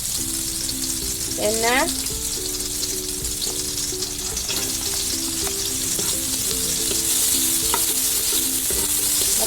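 Garlic and onion sizzle loudly and steadily in a pan with close, continuous crackle, while a voice briefly speaks over it.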